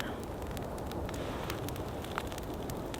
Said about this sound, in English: I just put the last big stuff here on the fire.